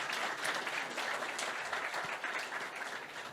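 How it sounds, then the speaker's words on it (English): Audience applause after a conference talk on drone forensics and incident response, a dense, steady clapping that holds at an even level throughout without voices over it. "With a round of applause."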